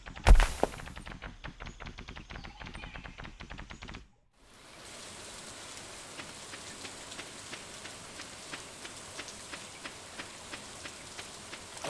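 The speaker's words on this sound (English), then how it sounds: "on a rainy day at the volcano." Steady rain falling at the volcano in the video game Stardew Valley, a dense even hiss that follows a brief burst of sharper game sounds and a short silence, continuing alone with no voices.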